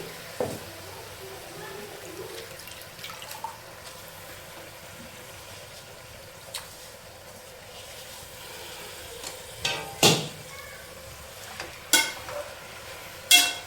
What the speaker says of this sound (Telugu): ఇప్పుడు ఈ గోంగూరను అయితే వేసుకుందాం